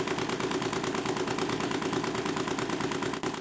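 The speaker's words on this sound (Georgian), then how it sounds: "ეხლა როცა ძრავი ბრუნავს, 588 ბრუნით წუთში წინა 326 ბრუნის ნაცვლად გაოცებული ვარ." A homemade Stirling engine mounted on a bicycle, improved with stainless steel mesh, runs at 588 rpm with a rapid, even chugging beat, close and loud, steady for several seconds before a brief dip near the end.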